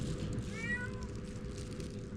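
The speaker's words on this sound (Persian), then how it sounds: "برو پیشی برو خونتون" A cat gives a single short meow, faint against a steady low background hum, with no one talking.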